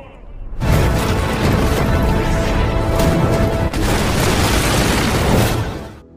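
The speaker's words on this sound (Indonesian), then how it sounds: "meriam yang sebelumnya telah diisi amunisi 2 kali lipat sukses memporak-porandakan pasukan Wakizaka" Cannon fire in a naval battle between a Korean fleet and Japanese ships, the cannons loaded with a double charge of ammunition: a dense, sustained roar of blasts that erupts and continues loudly for several seconds, with a brief dip midway.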